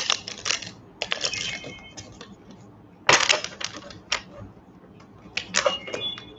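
Tarot cards being shuffled up close, with crisp papery riffling bursts arriving in several quick clusters separated by short pauses.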